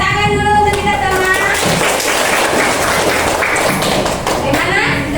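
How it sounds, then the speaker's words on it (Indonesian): A classroom full of children claps hands together in a dense, steady patter, with young voices chattering loudly over the applause. "tepuk tangan dulu untuk kita sama"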